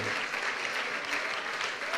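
Church congregation applause during a Spanish-language sermon, a dense, continuous crowd clapping heard for a short stretch with no clear voice over it.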